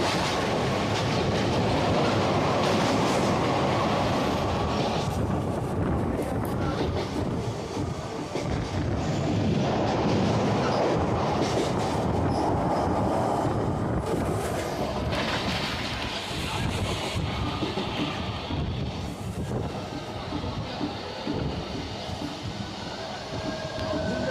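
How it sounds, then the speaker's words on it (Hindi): A Sealdah-Howrah local train rolls through platform 2 at a station in India, with a loud continuous rumble and rhythmic clickety-clack of wheels over rail joints, plus wind buffeting close to the microphone. "2 नंबर प्लेटफॉर्म से होके गुजरी है सियालदह हावड़ा लोकल"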